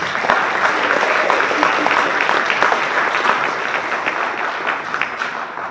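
Sustained audience applause at a school board meeting, a dense steady clatter of many hands clapping throughout, fairly loud and continuous with no talk over it.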